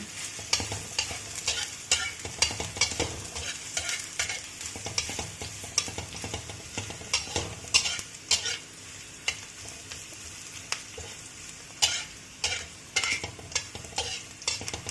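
Bitter gourd sautéed with onion sizzles in a pan while a utensil stirs and scrapes, steady frying with frequent sharp clinks and scrapes throughout, close and moderately loud, no talking.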